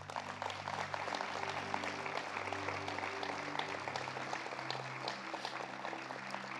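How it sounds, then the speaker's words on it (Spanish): A church congregation applauds steadily and fairly loudly in a hall, dense clapping sustained throughout, with a low musical drone or keyboard tones held underneath. "Este aplauso es para ti."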